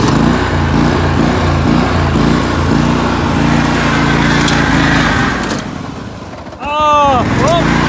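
A lawn mower engine drones loud and close, steady at first, dipping briefly as if losing fuel, then catching again, with a voice speaking over it.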